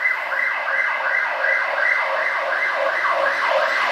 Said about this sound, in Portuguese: já agora está passando uma ambulância aqui